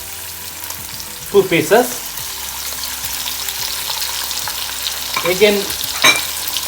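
Turkey bacon frying in a pan, a steady close sizzle running throughout, with a voice speaking briefly twice over it.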